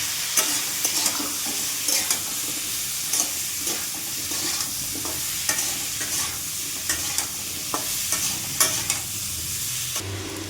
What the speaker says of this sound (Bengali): এবার এগুলি ভাজতে দেবো।